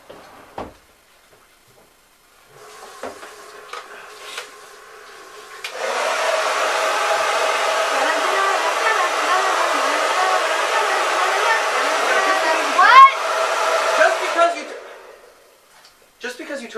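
A blow dryer roars steadily for several seconds, a loud broadband whoosh that cuts off abruptly, with faint voices and small clicks around it.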